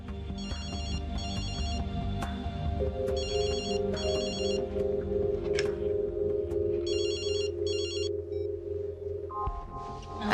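A home telephone rings in repeated electronic trilling bursts, clear and fairly close, over a low hum and a sustained tone, with no talk.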